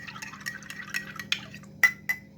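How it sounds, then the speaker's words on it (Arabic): A spoon of tahini stirred into a glass of water, with quick clinks of metal against glass, soft liquid swirls and a couple of brighter ringing taps near the end, close and quiet with no talking. "انا هندوب معلقة الطحينة في كوباية مية"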